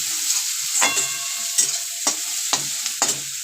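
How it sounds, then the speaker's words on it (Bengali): Two small chopped onions fry in a pan over a high gas flame, with a steady hiss broken by five or six sharp scraping stir strokes at a loose, even pace. "2টো পেঁয়াজ আমি ছোট ছোট পেঁয়াজ আমি কুচি করে রেখেছিলাম, এটা আমি দিয়ে দিলাম। গ্যাসটা হাই ফ্লেমেই করে দিলাম।"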